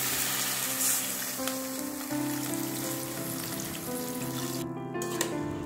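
Gobindobhog rice frying with spices and vegetables as water is poured in, giving a continuous close sizzle with soft, rain-like crackle and a few light utensil taps, and no talking.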